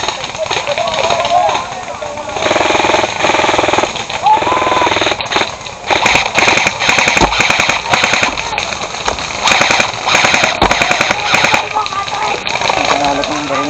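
Repeated sharp cracks like gunshots burst out amid a loud, chaotic street brawl, with dense crowd noise and shouting voices throughout and several louder bangs clustered near the middle.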